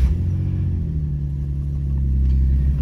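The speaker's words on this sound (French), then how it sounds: "Et ça, c'est le bruit du cold start." A car engine on a cold start rumbles loudly and steadily at a low idle, deep and close, with a slight rise in intensity toward the end.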